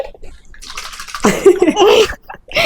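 Gold Winner cooking oil is poured into a pot of biryani, a soft liquid trickle and slosh at close range, with a voice sounding briefly over it.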